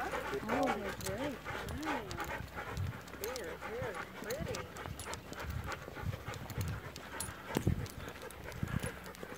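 Standard poodles panting in quick rhythmic breaths close by outdoors at Garden of the Gods, with people talking over them and occasional small whines.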